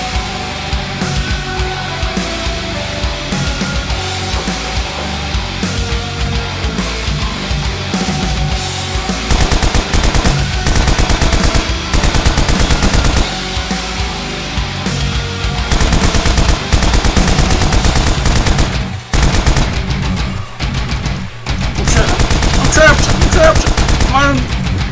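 Rapid, loud bursts of automatic gunfire in the video game Trip in Hell crackle close up, broken by short pauses, over busy background game noise.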